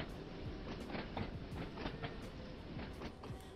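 A Class 483 electric train running on the Island Line in Train Sim World 2, a steady rumbling ride with repeated clickety-clack wheel beats over rail joints, continuous and moderately loud without talk.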